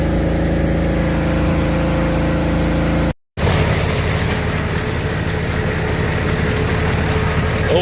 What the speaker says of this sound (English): Old junk 8-inch auger.